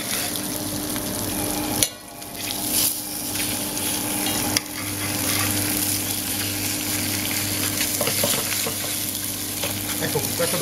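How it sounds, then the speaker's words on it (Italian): Tuna sizzles and sears in a hot pan, a loud continuous hiss and crackle broken by a couple of brief dips, with faint scraping now and then. "questa dovrebbe essere la rosolatura e la cottura, diciamo, quasi perfetta del tonno"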